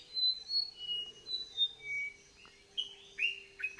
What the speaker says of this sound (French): les oiseaux commencent à chantonner